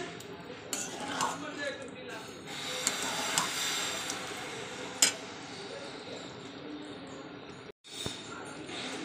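A metal spoon scrapes and clinks against a kadai while dhaba-style chicken kosa is stirred, giving irregular taps and a few sharper knocks over a low background, followed by a brief silence and a final clatter.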